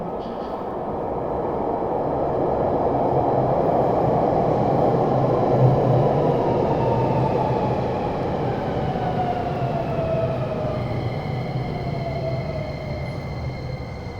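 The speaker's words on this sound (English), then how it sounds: "So that's the train coming." A subway train arrives at a Beijing metro station, its rumble swelling to a loud, sustained roar and then easing as it slows, with a rising and falling whine of the motors and brakes near the end and no talking.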